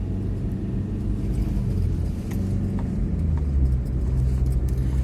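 A Hyundai Accent Era 1.5 CRDi diesel climbs a ramp in third gear, its engine a steady low rumble heard from inside the car, the pitch slowly rising as it pulls.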